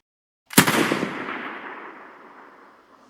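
A single sharp gunshot cracks loudly and close, followed by a long fading echo that rolls away over a couple of seconds, with silence just before it.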